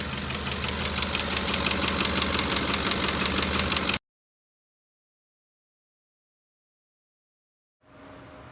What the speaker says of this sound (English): You hear that sharp tapping noise in the valve tray in there?